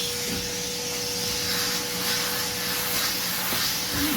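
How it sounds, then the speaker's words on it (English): A vacuum cleaner runs steadily with a loud, constant whine and hiss, with faint scraping as it sucks up loose powder during a haircut. "To vacuum all those powders."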